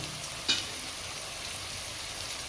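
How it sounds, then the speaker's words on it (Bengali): Halanchi greens with nigella seeds fry in a pan, giving a steady, soft, even sizzle with a single sharp clink of a utensil near the start, no voices. "ভাজাটা বসিয়েছি, এবার দেখি নাড়াচাড়া দিই।"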